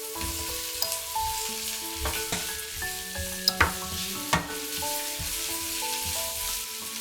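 Zucchini sizzles in a hot pan with oil, spring onion and garlic, a continuous frying hiss with occasional clinks and scrapes as the pieces are stirred, close and fairly loud with no voices.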